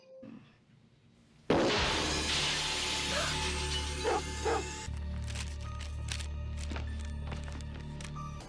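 A dog barks in a scene from the horror film Halloween 5, a couple of faint yips buried under a loud, dense wash of film sound and music.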